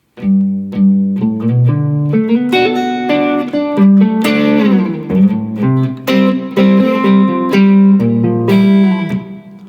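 An electric guitar plays a melodic riff of single notes and short phrases from a song's intro, clear and close, with a slightly processed tone and no talking.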